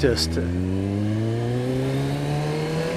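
Kawasaki ZX14 sport motorcycle engine heard close while riding, a smooth steady tone slowly climbing in pitch as it accelerates, loud and continuous after a brief burst at the start.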